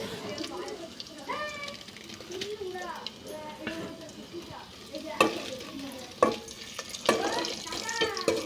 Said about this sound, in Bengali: তারপর আলুগুলোকে আর একটু সময় নিয়ে আমি ভেজে নেব।